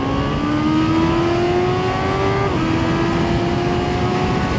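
A 2026 Honda CB650R E-Clutch motorcycle's engine climbs steadily toward its redline, a smooth rising whine with a clear harmonic tone, loud and close, alone without talk.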